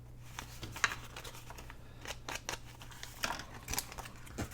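Scissors snip through a paper bag in a handful of quick, close cuts, each a sharp crisp crunch with faint paper rustle between, over a low steady hum.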